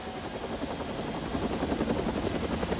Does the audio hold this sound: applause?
no